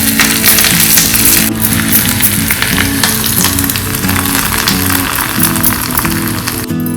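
Curry leaves and a dried red chilli crackle and sizzle loudly in hot oil for an okra kootu, a dense, continuous frying hiss with sharp pops near the start and end.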